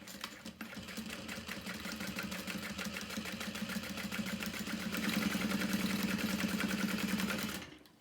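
Sewing machine top stitching a handbag lining, running in a fast steady needle rhythm for several seconds, growing slightly louder and faster near the end before stopping abruptly.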